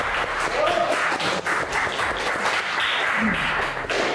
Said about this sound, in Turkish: Hep beraber alkışlıyoruz kendisini